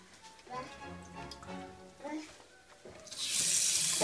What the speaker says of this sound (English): and now I'm going to wash it off in my sink.